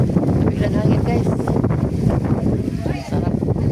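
Wind blowing hard on a boat trip around Bohol, a loud, steady rumbling rush against the microphone with uneven gusts throughout, and a voice faintly mixed in.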